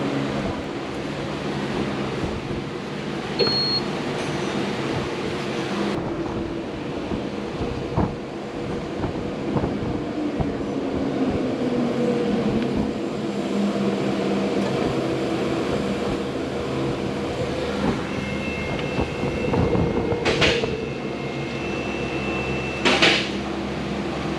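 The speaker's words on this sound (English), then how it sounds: "And it'll spin through, and it'll stop, and then it'll spin back, and it'll get it centered up." A tire balancing machine at a tire shop spins a wheel with a continuous loud whirring hum that holds steady for a long stretch, broken by a few mechanical clunks as it stops and reverses.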